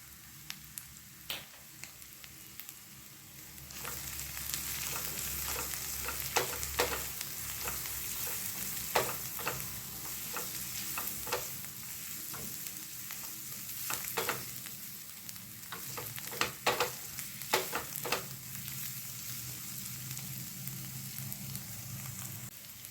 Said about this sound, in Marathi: आणि मसाले हे मी छान परतून घेतले तेलामध्ये